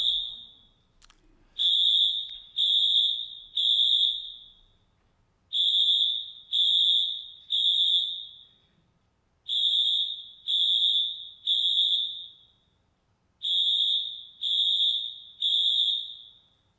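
An electronic alarm goes off during a church sermon. It gives high, piercing beeps in regular groups of three, repeated four times with short pauses between groups, loud and alone with no talking.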